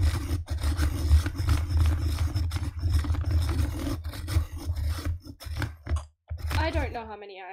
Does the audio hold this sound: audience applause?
no